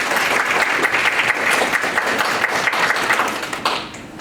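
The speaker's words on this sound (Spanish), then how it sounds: "Vamos a darle un fuerte aplauso a la licenciada." A room of attendees at a talk on legal capacity of people with disabilities gives loud, sustained applause, dense clapping close by that holds steady before tapering off at the end.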